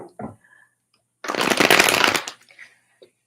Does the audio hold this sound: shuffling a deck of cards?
yes